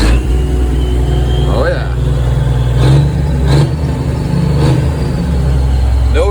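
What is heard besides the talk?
log loader engine revving with no exhaust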